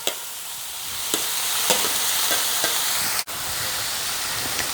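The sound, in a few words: mustard seeds, onion, chilli and tomato frying in oil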